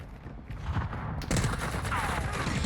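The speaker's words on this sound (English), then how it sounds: "Now we're getting shot from a whole nother building." Video game gunfire in Warzone 2, a steady spray of shots that swells louder partway through, with people talking over it.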